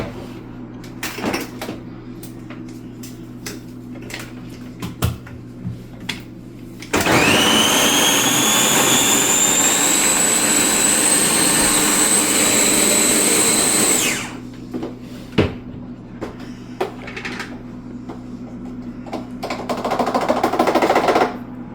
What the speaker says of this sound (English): So I'm going to put this through the food processor to make this a little More minced.